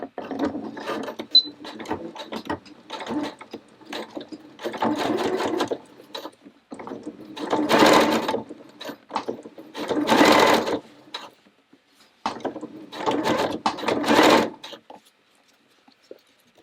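A sewing machine stitches the seam of a fabric face mask in several close bursts of rapid mechanical whirring and clatter. Short pauses with small handling noises fall between the runs.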